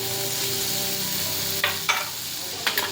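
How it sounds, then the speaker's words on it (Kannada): Onion and tomato fry in a pan, a steady close sizzle with a few sharp stirring scrapes near the end. "ಅದೆಲ್ಲ ಸಾಫ್ಟ್ ಆಗತ್ತನ್ನ ಈ ಥರ ಫ್ರೈ ಮಾಡ್ಕೋಬೇಕು"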